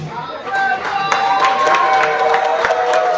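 Crowd cheering and clapping in the street at a wrestling show honoring Rey Mysterio Sr., a steady, dense roar of applause with scattered sharp claps and whistles, fairly loud and continuous throughout.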